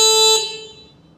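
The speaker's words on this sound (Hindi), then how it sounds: "हॉर्न मैंने सुनना है इसका" Horn of a 250cc motorcycle styled after the Ducati 1199, a single loud, bright, steady honk that stops abruptly and fades away, heard alone.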